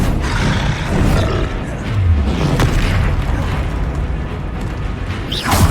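Spell effects from the Hogwarts Legacy video game, loud booming bursts and whooshing rumbles with crackling impacts during spellcasting combat, dense and continuous with a rising swell at the end.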